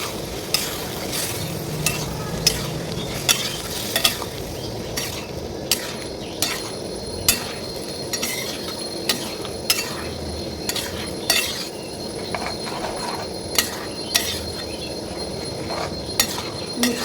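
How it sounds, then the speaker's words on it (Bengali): Boiled peas being stirred into a potato curry in a pan, with a spatula scraping the pan in a steady rhythm of repeated strokes about every half second over a low sizzle, close and without talk. "এটার মধ্যে আমার মটর আছে সেদ্ধ করা এটার মধ্যে দিয়ে এরপরে ভালোভাবে এটাকে মিক্স করবো"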